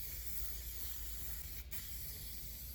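Montana Gold spray paint hissing from the can onto an MDF surface, a faint steady spray under low background noise with one brief sharper burst midway.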